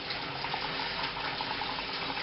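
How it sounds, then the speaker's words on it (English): Sparge water trickling onto the grain bed during all-grain brewing of a German Pilsener, a steady, even splashing and pouring hiss, close and continuous with no voices. "that nice clean sparge water to trickle onto the top so it doesn't upset the grain bed"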